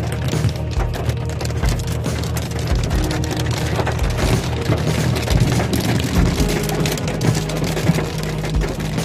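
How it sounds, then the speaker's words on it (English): Rain falls steadily on streets and roofs in Diepkloof, Soweto, a dense continuous patter with a low rumble of passing traffic underneath. "Unfortunately, it's now raining."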